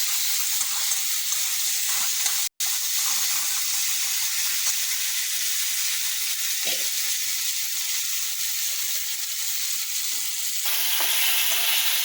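Pointed gourd (potol) frying in a pan: a loud, steady, hissing sizzle runs continuously and close up, with one very brief dropout and no talking.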